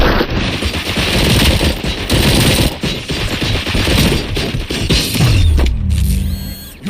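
Dense, continuous automatic gunfire with mechanical clatter and impacts in the video game RoboCop: Rogue City, loud and sustained throughout with rapid bursts overlapping.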